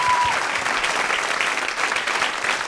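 A studio audience at a live French comedy show bursts into steady, dense applause, a full wash of many hands clapping continuously throughout.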